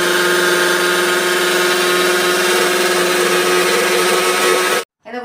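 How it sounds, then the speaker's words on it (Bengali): A kitchen mixer grinder whirs loudly and steadily as it grinds drained soaked rice into batter, a dense motor drone that cuts off abruptly near the end. "এবার মিক্সিতে বেটে নেবো।"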